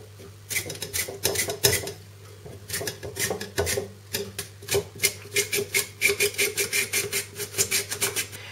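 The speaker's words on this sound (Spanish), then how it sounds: "Vamos a empezar pelando la patata. Y a continuación la vamos a cortar como si fuera para tortilla de patata." A potato being peeled and then cut with a knife, a dry rasping scrape repeated in quick, uneven strokes, close and fairly loud, with a steady low hum underneath and no talking.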